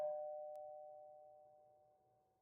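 A single doorbell chime rings out clearly, its pure sustained tone slowly fading away over a couple of seconds in an otherwise quiet setting.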